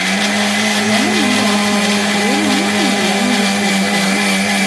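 A kitchen blender grinds amla, ginger, curry leaves and cardamom for a healthy juice, a loud, steady motor whine with a wavering pitch that runs unbroken throughout.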